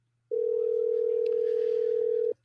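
A steady telephone tone sounds for about two seconds before a call goes to voicemail, one loud unbroken electronic note that stops abruptly.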